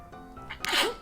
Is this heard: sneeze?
yes